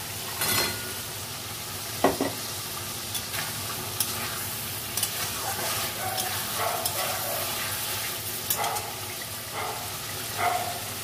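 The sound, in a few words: fried lentil fritters stirred into sizzling masala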